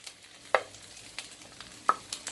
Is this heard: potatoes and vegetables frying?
yes